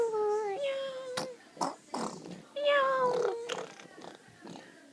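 A voice imitates a cat's meow, a couple of rising and falling mews with an adult talking briefly in between.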